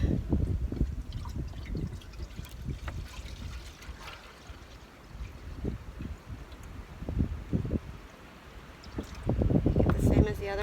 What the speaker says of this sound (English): pour some sap in it